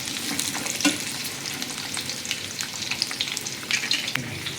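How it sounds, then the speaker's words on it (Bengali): Thin potato slices and pointed gourd (potol) slices fry in hot oil, giving a steady, close crackling sizzle with occasional sharper pops throughout, no voices over it. "আলু পটলটা একটু লাল করে ভেজে নেব।"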